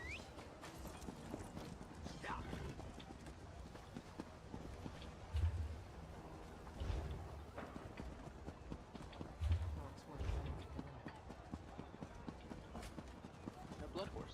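Horse hooves clip-clopping in a forge-and-anvil video game, a steady running patter of hoofbeats with a few heavier thumps, mixed under game music and a talking voice.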